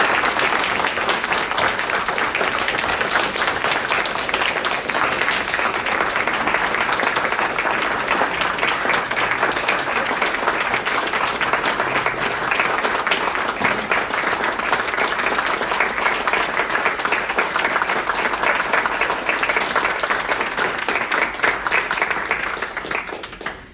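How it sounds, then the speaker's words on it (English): A long, loud round of applause from a crowd at a campaign kick-off rally for Kathy Ellis, many hands clapping steadily and densely for over twenty seconds before cutting off. "Round of applause for Kathy Ellis."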